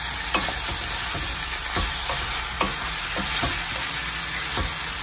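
A spoon scrapes and stirs tomatoes and cashews sizzling in a hot pan, with soft regular strokes over a constant frying hiss.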